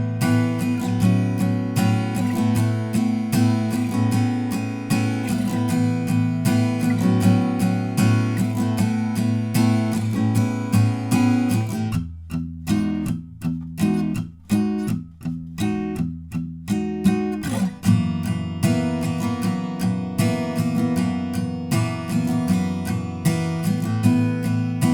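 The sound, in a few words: acoustic guitar playing a song's pre-chorus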